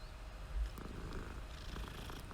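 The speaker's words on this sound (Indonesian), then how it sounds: "Ada kucing hitam" A cat purring in Hogwarts Legacy, a steady low rumble that runs the whole stretch at moderate level over faint game ambience.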